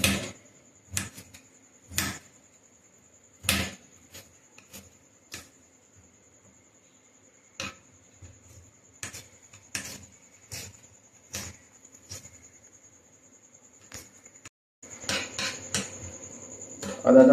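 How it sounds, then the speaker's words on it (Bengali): A knife chops peeled ginger into small pieces on a board: sharp, separate knocks, some single and some in quick bursts, with long quiet gaps between them. A faint steady whine runs underneath, and a denser run of chops comes at the end. "আমি এটা ছোট ছোট করে কুচি করে নেব।"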